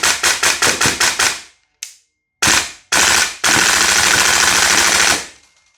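An Airtac HYP-9 HPA airsoft receiver with an Evo mag fires loud, close shots, first a quick string of about seven evenly spaced pops, then a lone faint pop, two short bursts and a long sustained full-auto burst.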